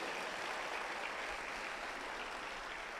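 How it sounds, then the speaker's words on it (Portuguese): A church congregation applauding together, steady dense clapping throughout, fairly faint and a little distant, with no voices over it. "Eu acho que ele merece até um aplauso, não merece não?"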